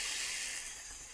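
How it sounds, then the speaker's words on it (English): A steady, soft hiss of steam sizzling under an iron pressed on a wooden pipe bowl, constant and close, with no voices. "I keep it there for a few minutes until it stops sizzling."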